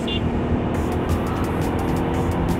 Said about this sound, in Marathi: अचानक एवढी ट्रॅफिक का झाली इथे?